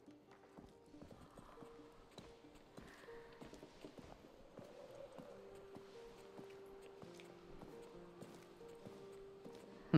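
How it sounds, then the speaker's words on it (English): Horse hooves clip-clop in a slow, steady walking rhythm in the video game A Plague Tale: Requiem, over soft tonal game music. "Look, that's a lovely horse."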